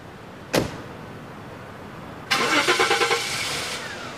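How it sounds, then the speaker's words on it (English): A car door thumps shut, then after a pause a car engine cranks and catches, revving up before settling into a steady idle, close and loud. "He then walked out of his office for the last time and left Westminster by car"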